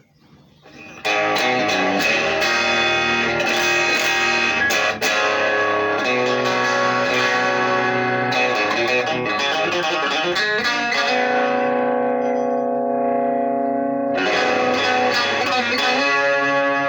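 A heavily distorted electric guitar rings out through an Orange Crush 12 amp, gain at 12 o'clock and distortion at 2 o'clock, sustained chords and notes played continuously, loud and close, with no talking.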